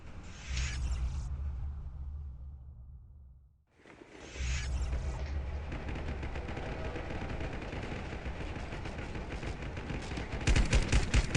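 Gunfire in the mobile survival shooter LifeAfter during a Nancy City tournament match, loud dense bursts of shots with mechanical clatter, a short lull midway, then sustained rapid firing that intensifies toward the end.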